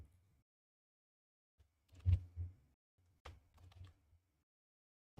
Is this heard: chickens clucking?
no